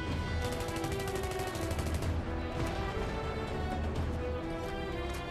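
Rapid automatic bursts from an M16A3 rifle in a video game, loud sustained rattling fire with a brief pause in the middle, the rapid cracks echoing over a steady rumble of battle.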